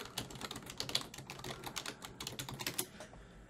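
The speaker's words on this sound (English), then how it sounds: "let me type this in real quick" Rapid keystrokes on a computer keyboard, a steady clatter of close, crisp clicks with uneven rhythm and brief pauses, heard alone without talking.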